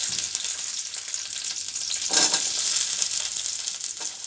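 Small sambar onions fry in hot oil with a dense, bright sizzle that stays steady and fairly loud, swelling briefly midway, with no voices.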